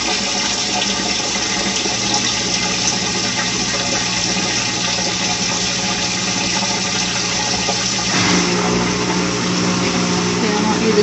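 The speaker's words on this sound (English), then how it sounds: "I wanted you to hear the rinse and spin." A Maytag Bravos top-load washing machine runs its rinse and spin cycle with a loud, continuous rushing, whirring drone of water and motor that surges louder partway through, close and steady.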